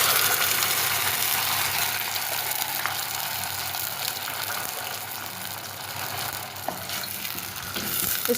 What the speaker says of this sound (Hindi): अब इसमें सबसे पहले मैं प्याज का पेस्ट डाल दूंगी।